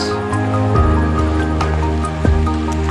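Water of the Devkundi river flowing and splashing steadily at close range, a loud continuous rushing wash with brief gurgling surges and no voices.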